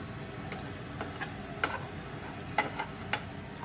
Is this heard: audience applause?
no